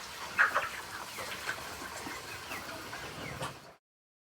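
Chickens at a school coop, a few close clucks and squawks early on over a faint outdoor background, fading before the sound cuts to silence.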